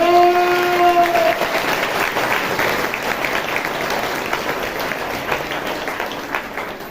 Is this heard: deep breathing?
no